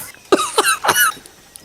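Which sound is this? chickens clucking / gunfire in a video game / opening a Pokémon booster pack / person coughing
person coughing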